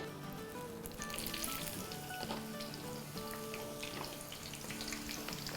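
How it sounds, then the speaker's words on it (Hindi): Small chopped vegetables for a vegetarian bottle-gourd kebab frying in oil, a quiet continuous crackling sizzle with faint bubbling and occasional stirring, steady throughout with no voices. "चले अब ये हमारा ऑयल जो है इसमें हमने जो छोटी मोटी वेजीज काटी है इसको हम फ्राई करते हैं।"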